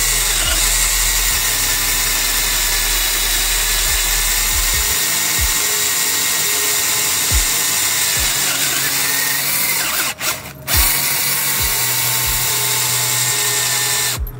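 An electric drill bores holes in a plastic grow bag packed with oyster mushroom substrate, a steady close whirring drone that runs continuously with a brief break and restart near the end.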